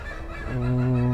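Bisaya native chickens nearby, with a short, close, tonal clucking call over quiet background noise.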